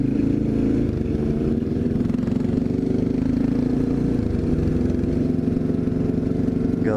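Several Yamaha street motorcycles idle and rumble close by, a steady low engine drone with mechanical clatter and slight revving throughout, with no talk over it.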